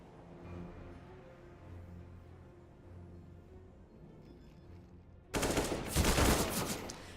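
Rifle gunfire from an AK and an M4 in a Counter-Strike esports match erupts loudly near the end as a sudden burst of rapid shots. Quieter game ambience precedes it.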